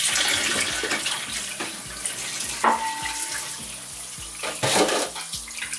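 Water runs steadily from a tap into a container, splashing and gurgling, with occasional knocks and clinks as leftover salt is rinsed from the vessel while making basturma.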